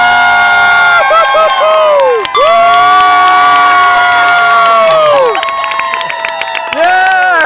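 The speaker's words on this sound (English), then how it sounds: "We're cheering like log flume cheering over here." A big crowd cheers and screams in long sustained whoops at Splash Mountain log flume at Walt Disney World on its last day, loud close voices rising and falling in several waves.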